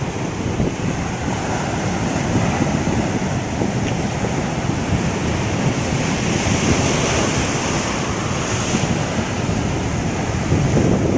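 Strong sea waves surging and crashing continuously at sea, a loud, dense roar mixed with heavy wind buffeting the microphone, with no voices.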